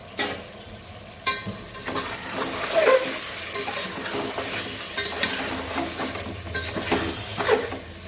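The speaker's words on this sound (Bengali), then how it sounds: "মশলাটা ভালো করে মিক্স করে এটা কষতে দেব।" Mutton curry masala stirred and fried in a pot with Kashmiri chilli for a Bengali mutton and potato curry: a steady sizzle runs throughout, with scraping spoon strokes and a few louder knocks against the pan, close and without talk.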